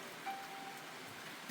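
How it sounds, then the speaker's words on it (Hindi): Steady rain falls over a hill village, a soft continuous hiss with faint patter and no voices. "बारिश जब से मैंने आपको दिखाया था ना, कॉन्टीन्यूस है तब से बारिश"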